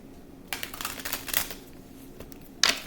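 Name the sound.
shuffling tarot cards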